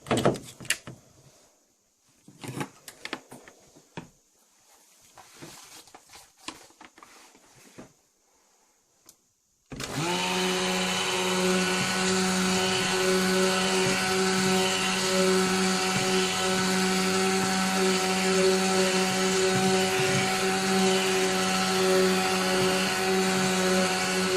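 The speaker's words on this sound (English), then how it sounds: "I like to put the stick blender in" Handling clatter and knocks first, then a stick blender switches on in soap mixture and whirs steadily and loudly for the rest of the clip, close by.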